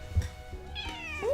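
A house cat gives a couple of short meows, the second rising at the end. The calls are close and indoors over a low room hum.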